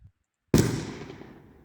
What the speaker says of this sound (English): Yeah, so this is going to be my shot explosion.